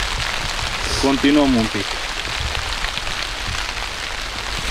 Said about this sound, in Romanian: Uite că a început să și plouă.